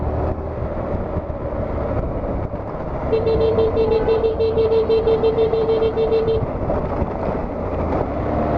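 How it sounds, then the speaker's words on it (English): A Honda NC700X motorcycle horn toots steadily for a few seconds over the rumble of an engine in New York City traffic. "Gotta honk for survival here."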